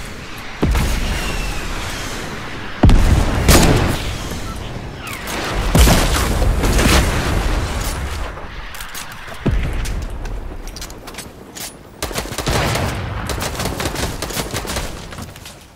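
Rocket barrage in a Fortnite duos fight: loud blasts hit in repeated waves about every two to three seconds. Each wave leaves a rumbling, crackling tail that fades before the next detonation slams in.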